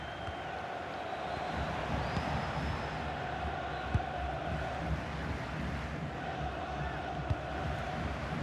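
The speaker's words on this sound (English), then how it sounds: "Just listen to the crowd, Derek, urging their team on." A large football stadium crowd in a FIFA 21 video game roars steadily in the distance, a continuous wash of cheering and chanting with a few sharp knocks rising above it.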